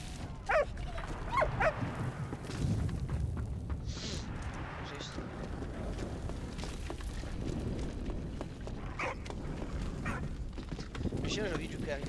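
Dog barking in the World War I game Soldats Inconnus: a few short yips and barks over a dense rumbling battlefield backdrop of explosions, with someone talking throughout.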